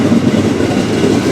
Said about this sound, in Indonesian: ini kereta api parcel berlintas langsung aja ini jalur tinggi dari arah timur